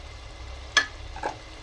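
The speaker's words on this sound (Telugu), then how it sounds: "టమోటా పేస్ట్ బాగా ఫ్రై అయిపోయింది." Tomato paste fries in a pan as turmeric goes in, a soft, low sizzle with one sharp spoon tap and a brief stirring scrape.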